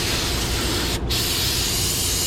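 A hose spray rinses foam off a car battery, a loud, steady close hiss of water with a tiny break midway.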